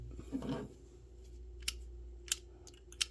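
The direction switch on a Kauplus 72-tooth Taiwan-made comfort grip ratchet flipped several times, giving three sharp, close, distinct clicks after a soft rustle of handling.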